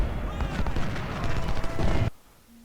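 Dense battlefield gunfire from Ultimate General: Civil War, a continuous crackle of massed musket volleys and booming cannon at the Battle of Salem Church, loud and sustained before cutting off abruptly near the end.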